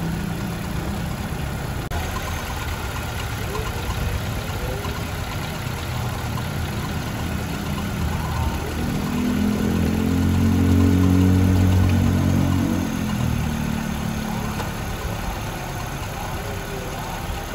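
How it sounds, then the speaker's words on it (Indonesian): A car engine idling steadily while warming up for about fifteen minutes during a radiator flush with coolant, a continuous low hum that swells slightly louder midway, with faint background noise throughout. "Sambil manasin mobil selama 15 menit"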